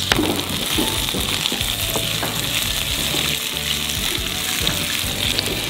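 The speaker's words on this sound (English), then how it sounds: "I'm just gonna add a little bit more ghee, and we are going to cook our aromatics" Fennel and carrots fry in ghee in a skillet, giving a continuous dense close sizzle with light clinks and scraping from stirring throughout.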